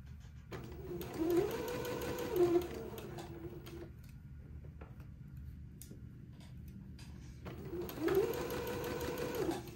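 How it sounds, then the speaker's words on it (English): Sewing machine straight-stitching entre-deux lace onto a sleeve cuff of a daygown, running in two whirring bursts separated by a quiet pause, close and steady. "I'm going to sew the entre-deux one with a straight stitch"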